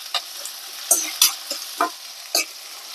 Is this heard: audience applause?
no